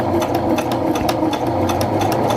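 Sewing machine stitching darts into a dress, a loud, steady mechanical whirr with a rapid rhythmic needle clatter running throughout without pause.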